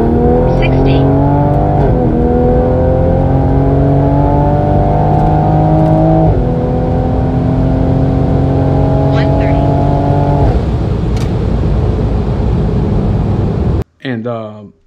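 A Toyota Supra accelerating hard from 60 to 130 mph, loud and close from inside the car. Its engine drones and rises in pitch through each gear, with brief drops at the shifts, before it cuts off abruptly near the end.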